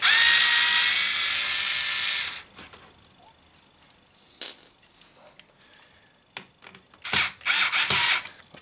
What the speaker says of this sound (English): So let's go ahead and undo those screws.